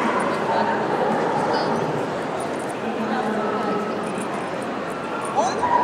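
A white Swiss shepherd dog barks and yips during a frisbee dog-sport session outdoors, its calls mixed into steady background noise while a person talks over it throughout.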